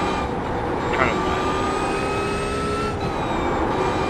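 Small V6 car engine from a racing video game, straining in a steady, constant drone with a thin high whine, held loud and close for the whole stretch with no talking over it.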